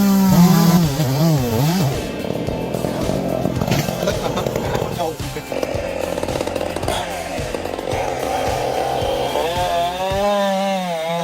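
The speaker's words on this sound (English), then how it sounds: "this guy is taking down a massive spruce tree, approximately 150 feet tall, using a heavy-duty chainsaw" A heavy-duty chainsaw cuts into a massive spruce about 150 feet tall, its engine revving and bogging in loud, sustained waves with pitch swoops, over a speaking voice throughout.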